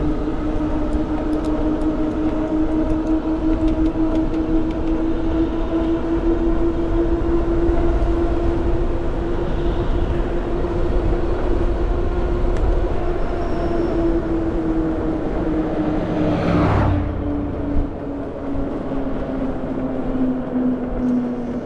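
Continuous ride on a 60V Wakewheel Scout electric scooter along a road: a loud steady whine that slowly rises and falls with speed over constant wind and road rumble, and a brief sharper swish near the end.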